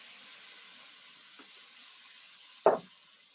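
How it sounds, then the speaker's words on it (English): Faint steady hiss of red and yellow peppers sizzling in olive oil in a pan, with a soft clink and a louder brief clatter near the end, no talking. "So now I'm going to add in my pepper"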